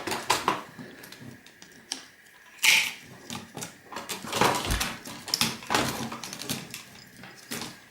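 Wires are snipped from electronic waste with cutters, giving close, irregular clicks, snaps and rattles of the parts being handled, one sharper crack standing out among the scattered sounds.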